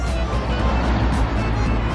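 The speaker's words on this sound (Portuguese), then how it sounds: "Eu tenho que dar um ré aqui, ó." A car's engine runs steadily as it reverses along a narrow street in Sorrento, a low continuous motor rumble with broadband road and ambient noise and no clear speech.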